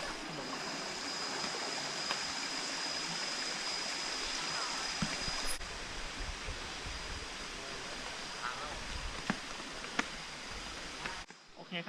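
The second tier of a waterfall in Trat province, Thailand, running low in a dry year, gives a steady, close hiss of rushing water throughout, with a few faint knocks and a brief stir at the end.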